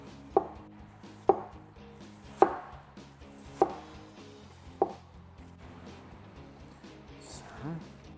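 Knife chops an onion into rings on a board, five or six sharp, evenly spaced thuds, while a person speaks softly in the background.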